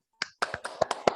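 Classroom rhythmic clapping game: a quick run of about six sharp, close claps and taps in an uneven pattern, with no voices.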